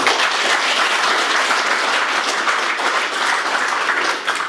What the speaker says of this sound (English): The more clapping you give, the more wound up I'm going to get.